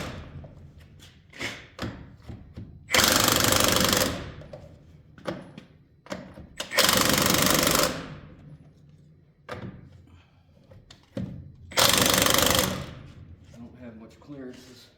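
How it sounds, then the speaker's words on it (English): Milwaukee cordless impact gun tightening lug nuts on a Peterbilt truck: three loud, sustained buzzing bursts of about a second each, separated by quieter clanks, taps and handling noises nearby. "I get the gun out, fresh battery. Now we'll get these lug nuts tightened up."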